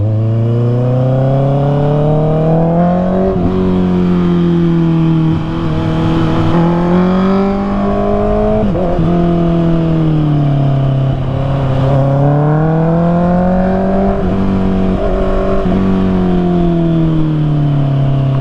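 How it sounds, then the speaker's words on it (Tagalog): A Honda CBR 650R motorcycle engine drones steadily up close, its pitch rising and falling as it accelerates and eases off in road traffic, loud and continuous with no talk. "So medyo maraming sasakyan, maraming motor."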